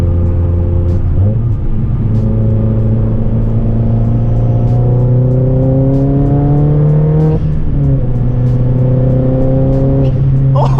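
Loud, close engine and exhaust of a 300-whp 2009 MazdaSpeed 3 pulling through several gears, rising pitch with shifts and a steady, aggressive roar throughout.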